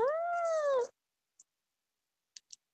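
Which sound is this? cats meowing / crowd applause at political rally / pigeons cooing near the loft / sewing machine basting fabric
cats meowing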